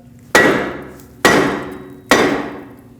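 Three heavy hammer blows land on a stuck rear brake rotor of a Lexus IS250, each a sharp metallic clang that rings and fades, spaced about a second apart.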